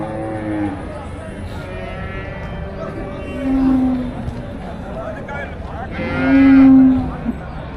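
Cattle at the Melapalayam cattle market give two loud, drawn-out moos, one midway and another near the end, over steady crowd chatter and people talking nearby.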